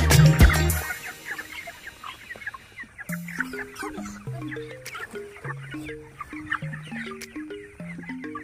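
Chickens on a poultry farm clucking and squabbling over feed, an opening loud flurry followed by a close chorus of rhythmic, repeated clucks.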